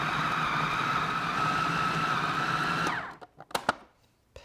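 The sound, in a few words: food processor mincing chorizo to a mincemeat texture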